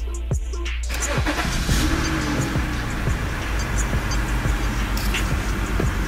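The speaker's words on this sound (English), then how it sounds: "I'm gonna walk my way back over to the car, start it up" A BMW E90 cranks and fires up close, settling into a steady idle.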